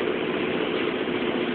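A 12-volt, roughly 300 cc air compressor filling a 2-gallon tank for air horns mounted in the back of a Kia runs as a steady, loud, even drone with a constant mechanical whir, unbroken for the whole stretch.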